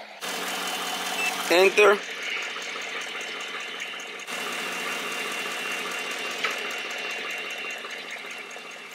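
A car engine runs with the air conditioning and other accessories switched off, its revs raised and held for a steady, even drone. A brief voice speaks near the start.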